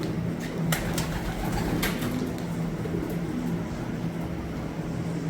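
Domestic pigeons coo softly and repeatedly nearby, low throaty murmurs over a steady background hum with a few faint higher chirps.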